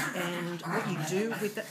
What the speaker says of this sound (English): Sorry about the noise. It's our dogs.